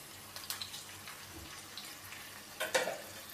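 Grated medium-size raw mango dropped into a hot asafoetida tempering in a pan, giving a soft hiss with scattered clinks and stirring scrapes, then a sharper burst of sizzle near the end.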